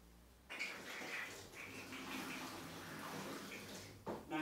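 Water spraying and trickling from a loosely screwed water filter connection that is not fully sealed, a steady hissing leak running for several seconds before cutting off.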